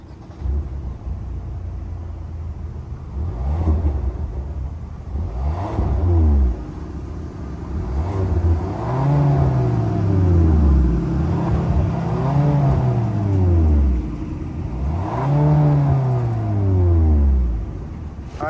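A 2023 Kia K5 GT-Line with its 1.6-liter turbocharged four-cylinder is revved repeatedly, giving several distinct rising and falling blips of engine sound that are close and loud, with no talking.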